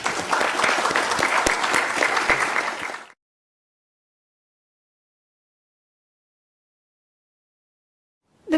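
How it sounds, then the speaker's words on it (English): An auditorium audience at a journalism award ceremony claps in dense, even applause for about three seconds, then it cuts to silence, with a brief sound returning at the very end. "Let's give her a round of applause too."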